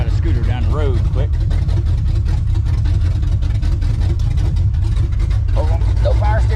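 An old car's engine running steadily during a test drive on a road, a loud continuous low rumble throughout, with someone talking over it at times.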